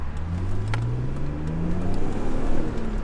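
A BMW Z3 engine with its stock muffler, roof off, revs smoothly up toward 5,000 RPM, a steady rising drone that stays fairly subdued and close, with no one talking over it.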